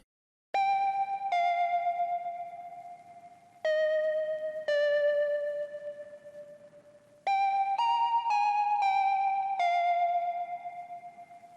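An Analog Vibralead synthesizer preset plays a slow melody of sustained, bright tones with a gentle wavering vibrato, some notes ringing out before the next begins.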